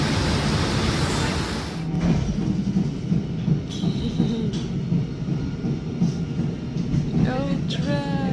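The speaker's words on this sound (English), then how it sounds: "later that day, today, we got to ride an old tram." Rumbling of an old tram in motion in Melbourne, with rattling wheels, clanks and a brief metallic squeal near the end.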